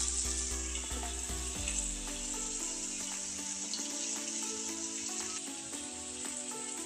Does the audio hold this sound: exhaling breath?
no